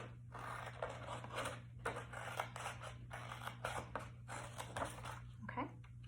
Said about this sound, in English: then we're going to cut on the dotted line